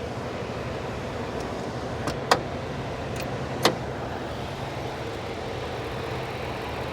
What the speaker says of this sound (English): That's a good American V8 right there, son.